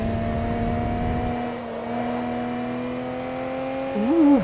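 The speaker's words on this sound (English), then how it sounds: "Such a nice sounding engine." A race car engine in Forza Motorsport 3 at Silverstone GP drones at a steady pitch before briefly climbing as it revs near the end, a smooth sustained whine without any talk.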